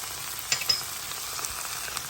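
Garlic sizzles as it goes into a hot pan with mushrooms for beef stroganoff, a steady bright frying hiss with a couple of small pops and stirring clicks.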